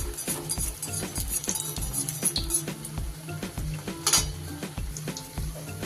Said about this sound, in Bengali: এইভাবে তেল দিয়ে আমি ভেজে নেব